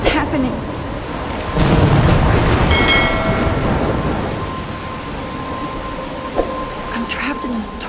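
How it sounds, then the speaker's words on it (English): Rolling thunder and steady heavy rain from a storm in the game Life Is Strange, a loud crack and rumble building early and then easing into a continuous downpour; a voice speaks briefly. "I'm trapped in a storm?"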